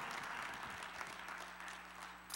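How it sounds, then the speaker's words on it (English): Congregation applauding during a Sunday church service, a steady wash of many hands clapping at once, fairly even in loudness throughout with no voices standing out. "can you just take a few seconds to give God a hand clap of praise?"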